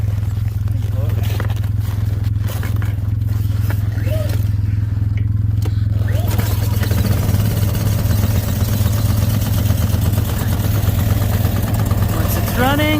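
Small pull-start gasoline engine with choke on, kept indoors, catching and settling into a loud, steady running drone with a clattering buzz after some initial scraping and handling noise.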